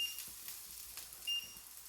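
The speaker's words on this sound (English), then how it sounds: "Sorry about the beeping." A kitchen appliance beeps twice, as a thin high tone near the start and again later, heard over a faint sizzling background while omelettes are being cooked.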